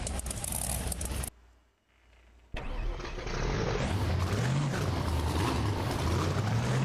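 A monster truck engine roars in a BeamNG Monster Jam game, drops out to near silence for about a second, then comes back and climbs into a loud, sustained rev with a rising pitch.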